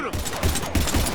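A short, choppy burst of rapid gunfire rattles in Mass Effect 3, with a voice speaking over the shots.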